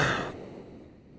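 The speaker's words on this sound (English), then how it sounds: "Pardon me for clearing my throat." A single close, rough throat-clearing burst, loud at first and then trailing off into quiet.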